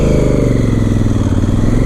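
A 2017 Honda Africa Twin motorcycle engine idles loud and close, a steady, throbbing mechanical drone with no break and no voices over it.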